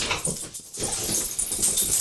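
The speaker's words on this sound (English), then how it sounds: "And Muppet just went outside" A dog makes short whimpering, yipping sounds close by, heard alone as it heads outside.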